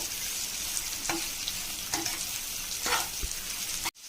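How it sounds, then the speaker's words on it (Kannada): Sliced bitter gourd (karela) frying in a pan for a crispy fry, a steady close sizzle broken by a few scraping stirs, with no voices. "ಈಗ ಇದು ಚೆನ್ನಾಗಿ ಫ್ರೈ ಮಾಡ್ಕೋಬೇಕು."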